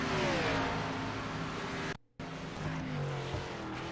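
A race car downshifting as it approaches pit road at a Scrambler Series race, a loud close engine roar with falling and rising gear tones, briefly cut to silence midway before the engine drone resumes.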